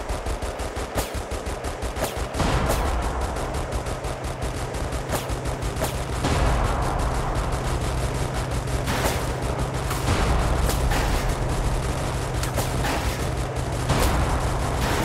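Bombs and gunfire in the video game iBomber Defense Pacific: dense, continuous machine-gun rattle and sharp shots with heavier explosive booms mixed in, loud and unbroken throughout.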